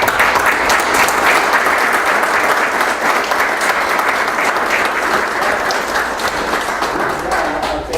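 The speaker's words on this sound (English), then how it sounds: "I want to again give Jamie an applause for all that he's done." Sustained applause fills a town board meeting room, a steady wash of many hands clapping without pause for the full stretch, with a few faint voices underneath.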